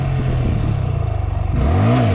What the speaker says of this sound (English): We're gonna pull the clutch in, give it gas, and then we're gonna drop the clutch.